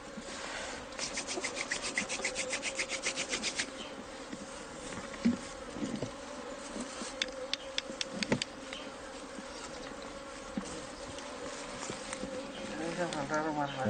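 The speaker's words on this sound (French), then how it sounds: "On va lui montrer comment faire sortir les abeilles avec de la fumée." Honeybees buzzing around a hive as it is smoked for the honey harvest, a faint continuous hum with scattered rubbing and wooden knocks close by, and quiet voices in the background.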